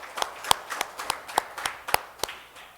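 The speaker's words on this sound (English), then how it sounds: "So can we give them a good round of applause?" A small audience at a Pacific Island legislators' meeting claps for the Guam delegation, roughly ten distinct, fairly close claps in an uneven rhythm, sparse and modest rather than a full ovation.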